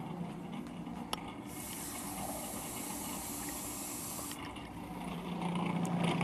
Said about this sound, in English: I'm going to continue by adding more water into the feed tube, through the feed tube